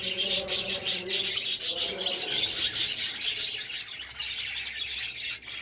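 Budgies in a breeding colony chirp and chatter constantly, a dense, close flock of bright twittering calls, with some rubbing and scratching underneath and occasional faint talk.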